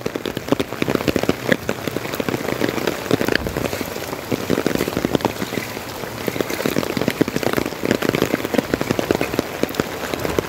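Heavy rain pours onto a flooded road, a dense continuous patter and splash of drops, loud and close throughout, with no voices.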